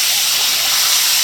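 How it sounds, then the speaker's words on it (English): Steam hissing out as a pan of cooked chicken is opened: a loud, steady high-pitched hiss, close and alone, lasting just over a second. "That steam's going to be good for the chicken."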